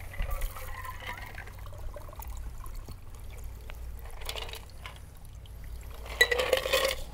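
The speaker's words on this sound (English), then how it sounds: "I have to use this Hawthorne strainer. Pour it right on in your glass there." A Tom Collins cocktail is strained through a Hawthorne strainer into a glass, giving soft trickling and splashing bursts of liquid that swell into a fuller pour near the end, close by and without talk.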